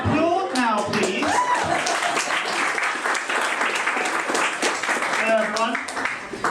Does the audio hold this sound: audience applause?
yes